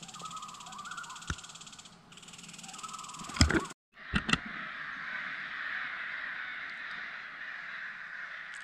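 Crows caw from a rookery during a bikepacking trip in Canada, with a few loud, harsh calls standing out over a steady background of distant cawing and outdoor noise.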